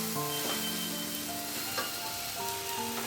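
Cabbage, capsicum, potato, carrot and green chilli sizzle steadily in ghee in a pan for niramish khichudi, a dense continuous frying hiss close by, with faint stirring and no talking.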